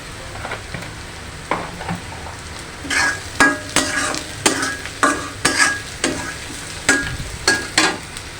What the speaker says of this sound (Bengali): পেঁয়াজটা এখনো ভালো করে ভাজা হয়নি, আর একটু ভেজে নেব।